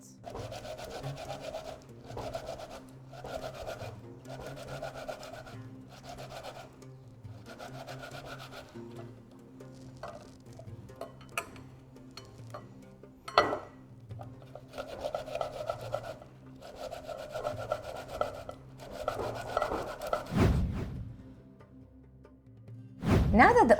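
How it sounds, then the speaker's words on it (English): Three fresh, unseeded tomatoes are rubbed against a grater in steady rasping strokes, bursts of scraping with short pauses between them and a few louder knocks and clatters near the end. "I will also grate the tomatoes."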